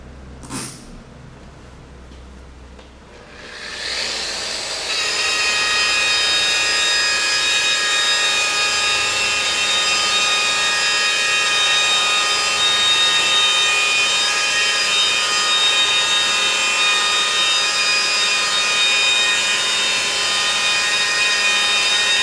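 A Makita rotary polisher-sander starts up after a quiet moment, ramps quickly to speed and then holds a loud, steady, high-pitched whine with a continuous motor hum, close up.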